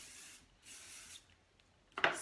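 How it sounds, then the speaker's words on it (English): A hair product is sprayed through loose curls in two soft hissing bursts, followed by a sharper, louder spritz close up, with faint rubbing in between. "I just kind of spray it through."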